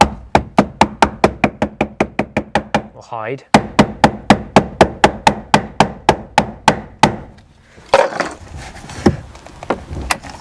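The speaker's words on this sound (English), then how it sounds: "A little copper hammer doesn't hurt." A small copper hammer taps an OMP race steering wheel on a Citroën Saxo or Peugeot 106 in a fast, even series of sharp blows, pauses briefly, then resumes; a short spoken phrase comes near the end.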